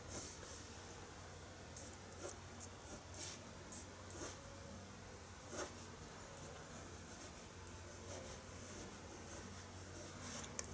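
Short, light colored-pencil strokes scratch across paper while a horse's forelock is drawn, a soft, close-up rasping pattern of brief repeated strokes over a quiet background.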